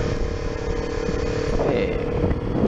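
A motorcycle cruising along a busy holiday road toward Malang, East Java, its engine droning steadily up close with wind noise, the pitch rising slightly toward the end as it picks up speed.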